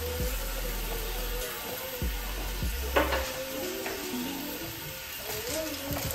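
Food sizzling and frying in a pan while being stirred, a constant close hiss with utensil scrapes and clinks throughout, no voices.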